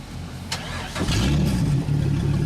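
A demolition derby car's engine cranks and catches, then revs up to a loud, rough, steady roar close by, with no voices heard.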